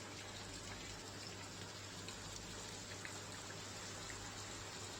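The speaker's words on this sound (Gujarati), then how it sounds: "અનેક ગામડાઓમાં વરસાદ વરસી રહ્યો છે" Rain falling over village fields in rural Savarkundla, Amreli, a steady faint wash of drops with no breaks and no voices.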